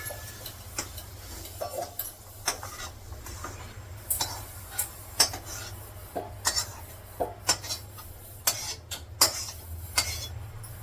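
Cooked masala paste (vatan) scooped from a kadhai into a storage container: irregular sharp clicks, taps and scrapes of a spoon against metal, close by, spread over several seconds with no voices.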